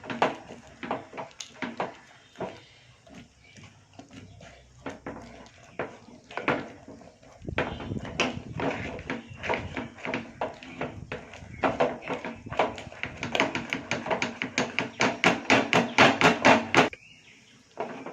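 Metal spoon scraping and clattering against a pressure cooker while cooked pearl millet rice is stirred, a dense run of quick knocks and scrapes that grows louder and busier midway, with no talking.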